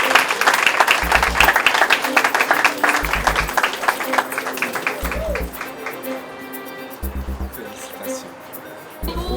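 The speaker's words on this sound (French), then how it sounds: "Applaudissements, s'il vous plaît" Audience at a UN volunteers' prize ceremony applauding a first-prize winner, with scattered clapping mixed under amplified announcements and rhythmic music that fade toward the end.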